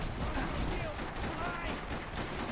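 Dense, continuous gunfire from the video game Max Payne 3, a loud unbroken barrage of overlapping shots filling the whole stretch with no pause.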